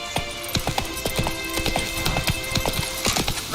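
Roach, a horse in the video game The Witcher 3, gallops with a steady run of quick, close hoofbeats that continue throughout.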